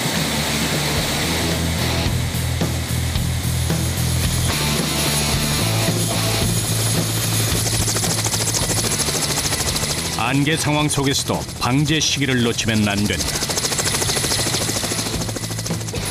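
A Kamov Ka-32 helicopter, used for pest-control spraying over a chestnut forest on a foggy day, takes off and flies with a steady roar and rotor chop. A voice talks over the engine noise.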